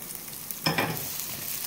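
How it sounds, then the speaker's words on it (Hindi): Sliced onions go into hot oil for pulao and crackle in a sudden short burst, then settle into a soft, steady sizzle heard close by with no voices. "प्याज को हम थोड़ा सा फ्राई करेंगे, 1 से 2 मिनट फ्राई करेंगे मीडियम फ्लेम पर।"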